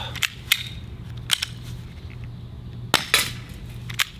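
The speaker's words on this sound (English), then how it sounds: "And every round, you literally have to rack it." A Sig P365 BB air pistol is racked and fired, giving sharp, quiet snapping clicks scattered in small bursts against a faint hum.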